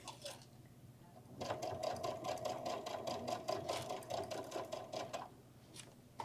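A sewing machine runs a steady fast stitch for about four seconds while sewing faux binding on a garden lattice clutch bag, with quieter handling before and after and no talking.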